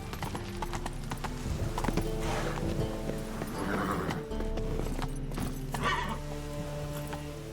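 A horse in The Witcher 3 gallops with steady clip-clop hoofbeats and gives a loud whinny midway, under continuous game music and ambience.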